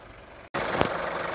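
An Audi's engine idles with a steady broadband hum and rattle, briefly cut off at the start, then running evenly and close by.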